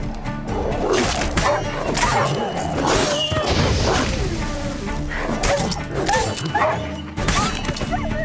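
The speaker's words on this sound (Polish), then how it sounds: "Jeden dziki pies." Wild dogs in the video game The Witcher 3: Wild Hunt, barking and yipping in bursts through a loud fight with smashing, whacking impacts and game music.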